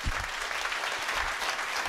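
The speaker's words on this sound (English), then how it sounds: "now clap your hands to God who gave her job" A church congregation claps hands together in sustained, dense applause during a live worship service, a steady wash of clapping with no speech over it.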